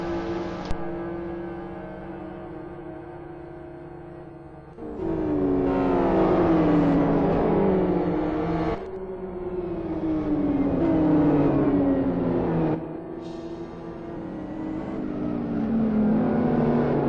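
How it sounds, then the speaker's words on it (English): A race car with heavy rear damage drives into the pit lane, its engine droning and shifting through several rising surges in pitch, loud and close, with no talk over it. "Slocum, rather obviously with very heavy damage to the rear of that car, he is coming into the pit lane."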